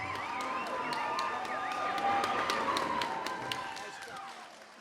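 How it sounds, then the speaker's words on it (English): A crowd at a fight night event applauds and cheers in an indoor venue, with dense clapping that swells and then fades while an announcer's amplified voice carries over it. "let me get a big round of applause for the machine called Faust."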